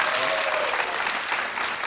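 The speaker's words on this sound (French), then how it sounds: "Applaudissements pour le costume qu'il a." Studio audience on a French television entertainment show claps in a brief, dense burst of applause, close and steady throughout.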